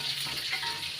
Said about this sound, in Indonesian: goreng tahu.